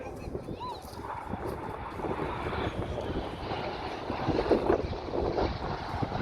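Red Arrows jets passing at an air display, a broad continuous roar with wind buffeting that swells slightly toward the end, heard from the crowd at a distance under a commentator's voice.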